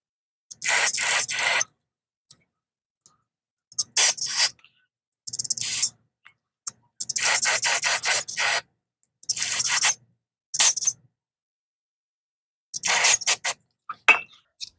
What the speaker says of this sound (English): we want to clean these jets with some carb cleaner